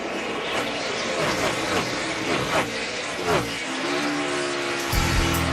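NASCAR stock cars race at Pocono Raceway in the 2015 Axalta We Paint Winners 400, with loud, steady engine roar and brief tire squeal through the turns.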